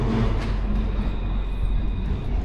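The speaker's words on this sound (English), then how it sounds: "There's the tram." A tram rolls past on a Dublin city street, a close, loud rumbling passage of rail wheels and motor that fills the whole moment.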